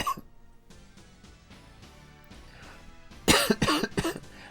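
A person coughs loudly in several harsh, rapid bursts near the microphone, following quieter game music in the background.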